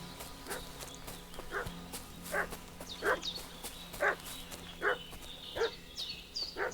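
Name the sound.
dog barking, from the video game Kingdom Come Deliverance 2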